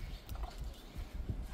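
Young mares' hooves clip-clop across the ground in an uneven, moderately loud patter of steps, with no voices over it.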